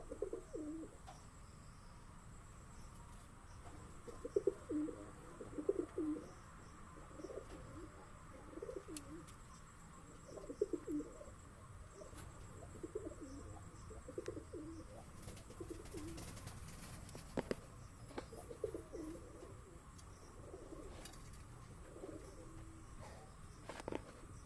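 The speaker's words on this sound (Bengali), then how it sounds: "চলুন দেখি পায়রাগুলো।" Giribaz high-flying pigeons cooing, soft repeated throaty coos in a steady, rhythmic series throughout, fairly faint against quiet background noise.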